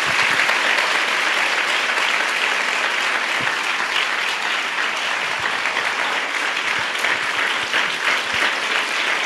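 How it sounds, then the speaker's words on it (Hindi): A church crowd at a Hindi worship gathering claps steadily and loudly for about nine seconds, a dense, continuous applause with no voices on top. "आइए हम सब मिलकर प्रभु यीशु मसीह के लिए एक जोरदार ताली बजाएंगे।"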